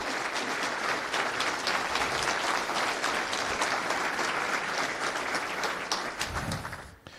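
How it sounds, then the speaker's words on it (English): An audience at a technical conference gives a long, dense round of applause that holds steady and loud, then fades near the end as a voice briefly comes in. "So maybe it's time for a round of applause for them."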